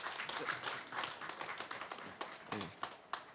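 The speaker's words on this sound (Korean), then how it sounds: "여러분 큰 박수로 맞이해 주시면 고맙겠습니다" A conference audience applauds to welcome a university professor before a drone-industry talk at a drone film festival, irregular hand claps in a soft ragged stream that thins toward the end.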